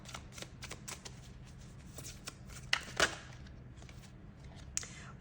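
Tarot cards being shuffled by hand, a soft riffling and sliding of card stock in a quiet room, with a few sharper snaps and taps around the middle and near the end.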